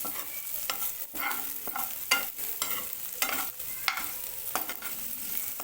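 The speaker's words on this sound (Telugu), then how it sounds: "ఇలా కలుపుతూ ఉండాలి ఇలా కలుపుతూ ఉంటే మనకు పెంకు కడాయికి అంటుకోకుండా ఉంటుంది" Paneer pieces fry in ghee in a kadai for a spicy paneer tikka fry while a spoon scrapes and stirs them in repeated, distinct strokes over a low, continuous sizzle.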